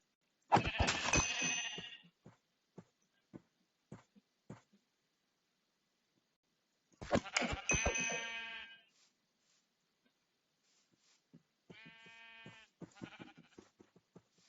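Sheep in the Minecraft-style video game Hungry World give three loud, separate bleats, spaced several seconds apart, with faint clicks and clinks in the quiet gaps between them.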